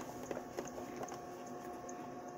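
Sewing machine stitching a fabric face mask: a steady, faint mechanical whirr with soft repeated ticks, running continuously and alone with no voices.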